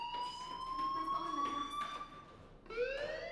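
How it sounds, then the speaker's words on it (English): A fire alarm ringing in the Life is Strange video game, a sustained electronic tone that holds steady, breaks off briefly, then resumes, mid-level and slightly distant over faint background noise. "do you hear that fire alarm?"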